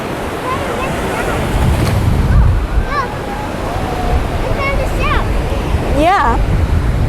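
Pacific surf breaks on the beach at Mazatlán, Mexico, a loud continuous wash of waves and wind noise, with people talking and faint bird calls over it.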